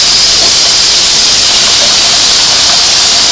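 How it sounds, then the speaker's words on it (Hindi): Green chilies hit hot mustard oil in a pan, giving a loud, dense, unbroken sizzling hiss held close and steady from start to finish. "अब इसमें मैं मिर्चें डाल रही हूँ।"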